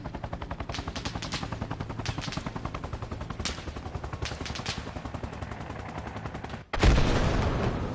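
Automatic gunfire in the military game Arma Reforger rattles in fast, sustained bursts, punctuated by sharper cracks, then ends in one heavy, booming impact near the end.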